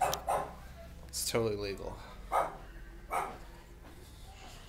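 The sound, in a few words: dog barking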